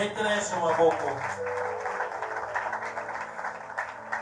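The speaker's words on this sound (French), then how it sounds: "Applaudissez pour Jésus" Congregation applause at a Sunday church service, a broad steady wash of clapping mixed with music and voices throughout.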